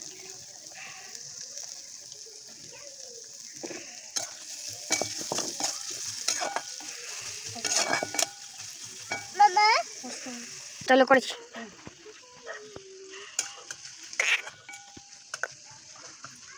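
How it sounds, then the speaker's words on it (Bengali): Ginger, garlic and onion frying in hot oil on a small stove, a continuous sizzle broken by repeated scraping stirs and sharper crackles, with a person talking throughout. "এর মধ্যে দিয়ে দিলাম রসুন। এবার দিয়ে দিচ্ছি পেঁয়াজ।"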